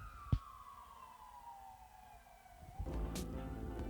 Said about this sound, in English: you hear that police siren?